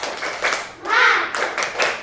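Children clap together in a rhythmic spirit clap (tepuk semangat) in a classroom, a short burst of quick claps mixed with voices.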